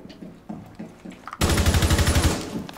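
Rapid automatic gunfire in Rainbow Six Siege on Xbox One, a loud dense burst of repeated shots that erupts abruptly after a stretch of quieter footsteps and scattered game noise.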